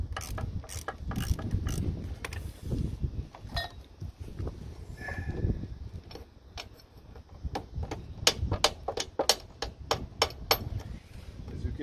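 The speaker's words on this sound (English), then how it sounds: "let me use the ratchet just to make it quick" A hand ratchet clicks rapidly in bursts while undoing a corroded bolt on the oil pump of a SNECMA 12T aircraft engine from an MD312 Flamant, close and crisp, with a voice speaking between strokes.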